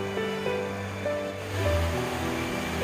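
A mountain valley stream in Goundong Valley on Jirisan, among forest, rocks, waterfalls and pools, gives a steady, loud rushing wash of water with faint tonal traces over it.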